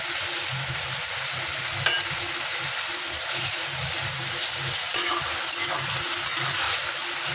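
Poppy seed paste frying with ridge gourd and potato in a pan, a continuous close sizzle with occasional stirring scrapes and knocks of the spoon, no one talking.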